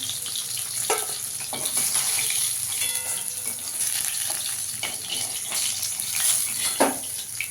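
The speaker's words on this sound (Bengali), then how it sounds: "এবার বাকি মাছগুলো ভেজে নেব।" Fish pieces frying in hot oil for a Bengali fish curry give a loud, continuous close sizzle and bubbling, with a few soft scrapes of a utensil and no talk.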